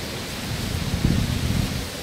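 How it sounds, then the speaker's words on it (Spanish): Steady, relentless rain pouring down during a wet winter, a dense continuous hiss with a slight low rumble swelling in the middle, no voices. "Bajo el sonido implacable de la lluvia"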